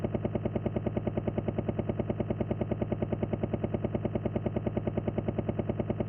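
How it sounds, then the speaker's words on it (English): Helicopter of the last boss in a Tekken beat-em-up video game, a loud, fast, perfectly regular synthetic rotor chop that stays constant and continuous with no talk. "it's cool that he comes down in the helicopter"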